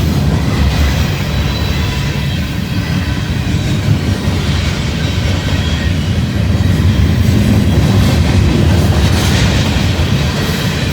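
A train in Northern Kentucky rolls past close by, loud and continuous, with heavy rumbling and rhythmic clattering of wheels over the rails.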